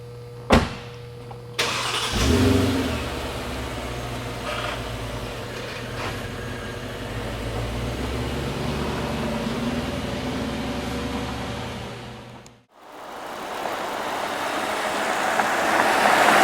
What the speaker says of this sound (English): Well, we're cruising on the highway.